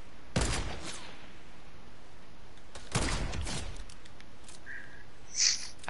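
Two sharp bursts of rapid weapon fire in the Fortnite video game, separated by a few seconds of near silence, followed by a faint high game tone.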